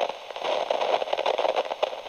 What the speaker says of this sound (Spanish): Y estática.